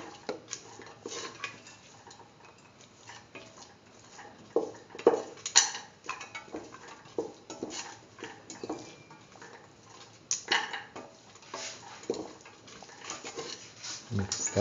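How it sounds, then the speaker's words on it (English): Green peas stirred into beetroot rice in a pot, a spoon clinking and scraping against the metal in light, irregular taps with soft rustling, close but quiet throughout. "Mix the green peas into the mixture thoroughly."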